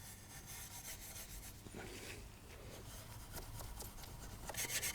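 Rubbing and scrubbing a dirty chrome exhaust tip on a Mercedes SLK 350 during a wash: soft, continuous friction and scraping close by, quiet and uneven.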